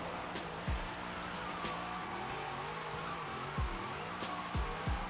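A 1000 hp BMW M3 drift car in Forza Horizon 5 revs hard with its tires spinning, the engine note rising and dropping through gear changes over a constant roar of wheelspin.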